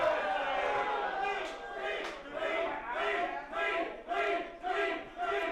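A wrestling crowd at a T2T Academy show in Pittsburgh chants and shouts in rhythmic bursts at a wrestler, urging him to leave, a loud massed roar with repeated pulsing calls.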